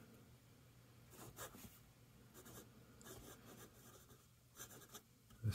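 A Visconti Homo Sapiens Bronze Age oversize fountain pen writing on paper, with soft scratchy nib strokes in short bursts and pauses, close and quiet.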